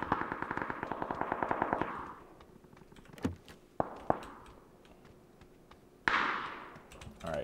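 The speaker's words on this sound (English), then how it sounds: "you guys need to calm down with shooting over there" Rapid automatic gunfire rattles in a steady burst from a gunfight in PUBG, followed by a few scattered single shots at moderate distance, with no talking.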